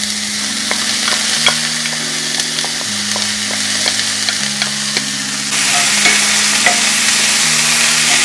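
Peas and corn tumbling into a hot pan for shepherd's pie, sizzling loudly and steadily while a spoon scrapes and stirs with scattered clicks, close up, under a low tonal hum, growing brighter and louder toward the end.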